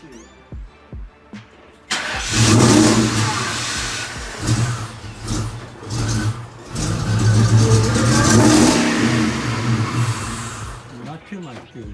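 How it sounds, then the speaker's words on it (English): A restored 1999 Saleen Mustang engine cranks, catches and revs up as it is given gas, rising and falling in loud surges close by, with people talking over it. "give it a little gas and see what happens"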